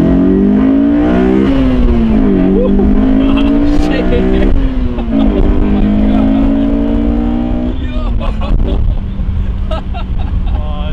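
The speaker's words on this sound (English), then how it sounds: "All right, let's hear some VTEC." A Honda S2000 engine with VTEC revs hard from inside the car, pitch climbing and dropping through repeated loud pulls with gear changes, as occupants talk over the engine.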